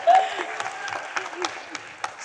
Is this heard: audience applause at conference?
yes